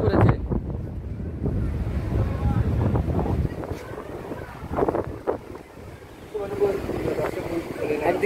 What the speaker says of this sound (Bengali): একদিকে প্রচণ্ড জোরে বাতাস এবং বৃষ্টি শুরু হয়েছে দীঘার সমুদ্র সৈকতের ধারে